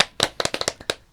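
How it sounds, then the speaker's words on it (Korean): A few people give a short burst of celebratory clapping in a podcast studio, around a dozen crisp, close claps in an uneven rhythm. "우리 자축의 박수"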